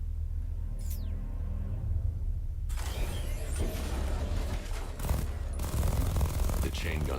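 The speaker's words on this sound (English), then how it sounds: "The chain gun's not powerful enough." A chain gun fires in the video game Batman: Arkham Knight, a dense, rattling burst of rapid shots with mechanical clatter, loud and continuous for several seconds after a quieter opening with a short whoosh.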